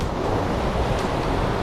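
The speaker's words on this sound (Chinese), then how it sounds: "这浪太大了" Big waves churn and crash against sea rocks during Typhoon Surigae, a loud, continuous roar of surf mixed with gusting wind and no speech.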